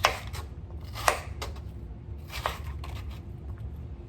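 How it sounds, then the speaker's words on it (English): A knife chops potatoes for chowder on a cutting board, a handful of sharp, irregular thunks at close range, some louder than others, with quiet gaps between strokes. "Go ahead and cut it up in your desired size."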